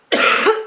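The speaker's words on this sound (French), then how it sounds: "avec cette toux qui vient" A single harsh cough from a person with a cough, loud and close, lasting under a second with no talk.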